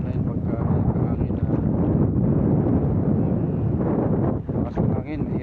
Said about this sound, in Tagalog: So hangin po ngayon kaya walang masyadong naiisda